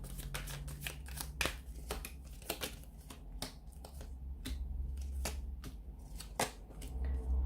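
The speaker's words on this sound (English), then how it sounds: "So we'll give the cards a shuffle." Tarot cards being shuffled by hand, a steady run of crisp riffling and snapping card flicks with sharper slaps at intervals, close and fairly quiet over a low constant hum, with no talking.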